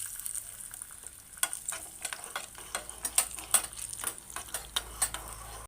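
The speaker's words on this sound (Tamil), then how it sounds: "முந்திரியை போட்டு வறுத்துக்கலாம்." Cashews frying in coconut oil for Kerala halwa, a soft continuous sizzle punctuated by quick clicks and scrapes of a spoon stirring the nuts in the pan, close but quiet.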